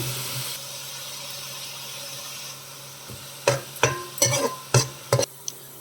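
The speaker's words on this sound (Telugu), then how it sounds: "కొంచెం గోల్డ్ కలర్లోకి వచ్చే వరకు వేగాలండి." Onion paste with salt fries in a pan, starting with a low steady sizzle, then a run of five or six loud, close spoon scrapes and knocks against the pan near the end.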